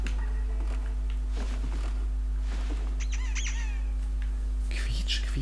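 A door squeaks from behind a cabinet in the Silent Hill Downpour horror game, a series of high, wavering creaks over a steady low hum, with people speaking around it.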